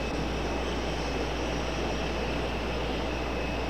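A jet airliner rumbles steadily at Raleigh Durham International at night, a constant broad roar with a faint high whine and no talking.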